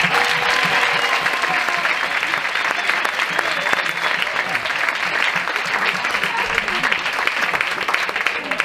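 Sustained, dense applause from an audience at a village festival in Albelda de Iregua, a loud steady wash of clapping hands that holds without a break, with voices mixed faintly into the crowd.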